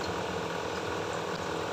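Mango pieces for a Kerala oil-mango pickle fry in a pan of oil over a medium flame, giving a steady, close bubbling hiss with no pauses and no voices.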